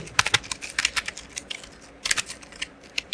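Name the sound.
typing C code on a computer keyboard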